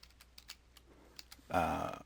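Light keystrokes on a computer keyboard as a city name is typed into a weather app's input field: a handful of soft, scattered clicks close by, then a voice begins talking.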